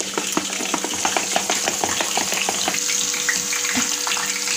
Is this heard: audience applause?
no